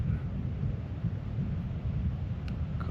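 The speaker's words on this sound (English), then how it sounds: "As you can hear, it's thundering and lightning." A nighttime thunderstorm brings a steady, deep rumble of thunder that rolls on without a break, heavy in the low end and fairly loud, with no voices.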